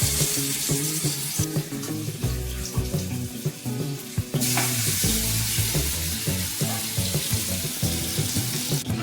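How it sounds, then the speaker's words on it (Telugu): Chicken leg pieces drop into hot oil and fry with a loud, continuous close sizzle that bubbles and crackles steadily throughout. "ఆయిల్ హీట్ అయింది. చికెన్ పీసెస్ ఆయిల్ వేసుకోవాలి."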